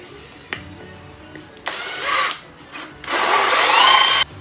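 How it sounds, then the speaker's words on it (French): A power drill whirs in short bursts, then a hole saw grinds steadily into plasterboard for about a second before stopping abruptly. "Je prends la même scie cloche avec laquelle j'ai percé."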